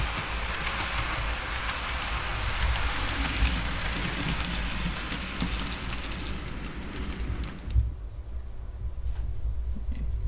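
A Dapol BR Class 50 model locomotive runs with a continuous, close mechanical whir and rattle that suddenly cuts out near the end, leaving a quieter background.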